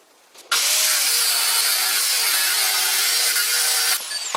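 A 16mm rod being sawn off for a lathe cross-drilling jig: one loud, steady, continuous cutting noise, close by, that starts abruptly and runs about three and a half seconds before stopping sharply, with no talking.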